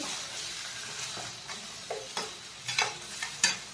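Onion and tomato sautéing in a pan, a low sizzle under intermittent scraping stirs of a spoon that grow more frequent and louder toward the end.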